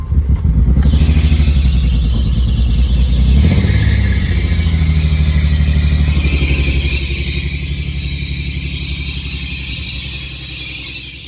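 A 1990 Nissan 300ZX Z32 with newly installed fuel injectors cranks, fires and revs up loudly up close, then settles into a rough idle that slowly quiets and smooths over several seconds.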